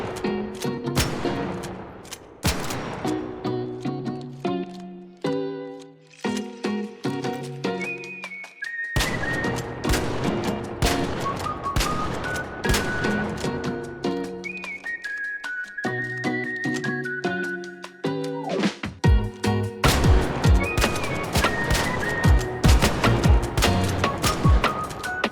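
Repeated bursts of shotgun fire from the Il Toro in a shooter video game, several loud blasts in sequence with mechanical reload clacks between them, cycling over and over with bright tonal game effects.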